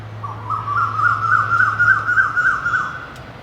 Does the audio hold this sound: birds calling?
yes